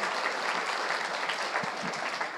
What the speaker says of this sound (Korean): 한번 큰 박수로 격려해 주시기 바랍니다.